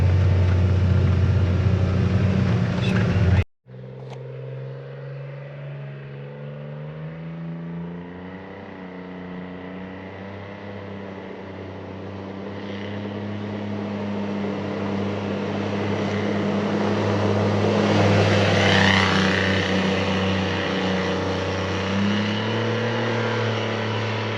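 A steady engine drone from a Polaris Ranger XD 1500 UTV with an aftermarket EVP exhaust cruising at about 20 mph, with a low rumbling exhaust note that swells gradually, heard up close without talk.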